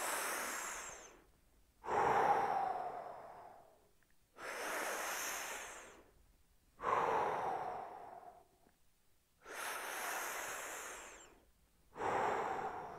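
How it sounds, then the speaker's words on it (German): Slow, deep breaths during a shoulder stretching exercise, six long airy inhales and exhales alternating with brief pauses, close and fairly soft. "wir atmen fünfmal tief durch"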